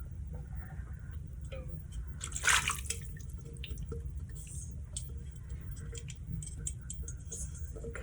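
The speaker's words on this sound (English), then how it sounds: "I'm also gonna add just a little splash of water" A small splash of water poured from a bowl into a crock pot of beef and broccoli sauce makes a brief, bright pouring burst over a steady low kitchen hum, with faint scattered drips after.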